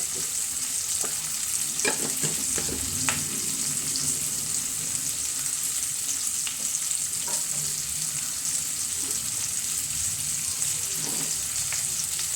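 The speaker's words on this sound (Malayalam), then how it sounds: "നന്നായിട്ട് വഴറ്റി കൊടുക്കണേ" Chili powder sautéing in a pan for paneer butter masala, a continuous close hiss of frying with intermittent stirring scrapes and knocks of a spoon against the pan, no voices.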